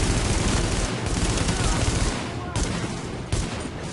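Weapon fire in the video game The Division, a dense, loud stream of rapid gunshots that continues throughout with little letup.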